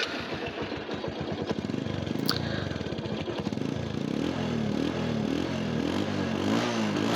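A Bajaj Discover 135cc motorcycle in good condition, running close by with a rhythmic thumping exhaust that settles into a steady, slightly clattery idle.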